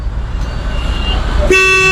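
A hydraulic horn on a road vehicle in Bangladesh bursts in near the end, loud and steady, after a stretch of idling engine and road noise with no talk.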